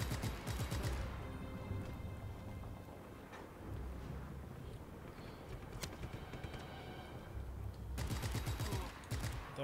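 Gunfire in Just Cause 3, loud bursts of rapid automatic shots at the start and again near the end, with scattered single shots and rumbling explosions between, dense and continuous.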